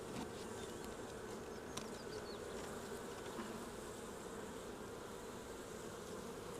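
Honey bees buzzing around an open, crowded hive during an inspection, a faint continuous drone of many insects with occasional individual bees passing close, and no voices.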